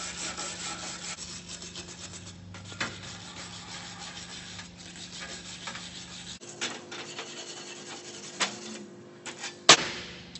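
A wire brush scrubbing an old J H Williams wrench: close, fast rasping strokes in a continuous scratchy rhythm, pausing briefly midway and ending with a sharp clack.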